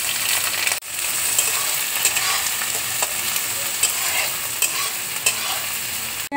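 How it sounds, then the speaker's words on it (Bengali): Chopped onion hits hot oil already holding mustard seeds and curry leaves, bursting into a loud, dense, continuous sizzle with occasional crackles and spoon scrapes, heard up close with no talking. "এবার আমি পেঁয়াজ কুচি দেখো দিয়ে দিচ্ছি।"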